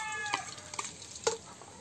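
Garlic fries in a pan for adobo, a soft, faint sizzle broken by a few quick stirring scrapes and clinks.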